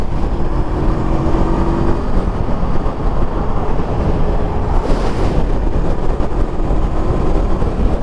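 Heavy, constant wind roar buffets the rider of a Honda CB500F motorcycle cruising on a motorway on a very windy day, a dense broadband rush masking the engine throughout.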